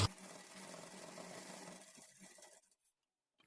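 A sewing machine stitching puff sleeve pieces together at a quarter-inch margin, whirring in a steady close run for about two and a half seconds before slowing and stopping into silence.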